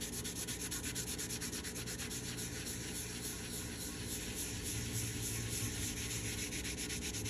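A magic eraser rubs against a laser-engraved JDS 32oz water bottle, giving a continuous, even scrubbing hiss that runs steadily and fairly quietly from start to finish.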